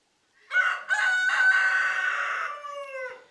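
A rooster crows once in a single loud, drawn-out call lasting about three seconds, close to the listener, with a wavering middle and a falling tail, and no other sound around it.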